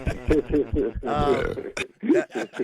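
A drawn-out burp rises from the middle of casual talk on a live morning radio show, surrounded by speech on both sides.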